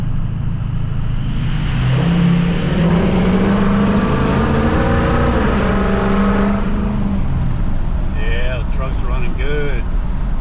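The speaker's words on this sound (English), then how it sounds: "So the truck seems to be running a lot better too." A 2003 Ford F250 truck engine runs steadily throughout, a continuous close rumble with a rising rev in the middle, while people talk over it.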